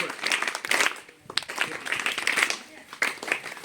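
Classroom applause at a village primary school, a burst of clapping from children that swells and dips over a few seconds, close and fairly loud, with no words spoken.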